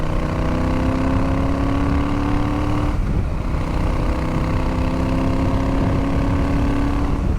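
A Royal Enfield Super Meteor 650 runs through a full aftermarket header-to-silencer exhaust with the silencers fitted, giving a steady, loud engine drone that holds throughout with one brief dip midway.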